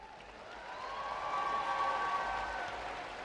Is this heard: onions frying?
no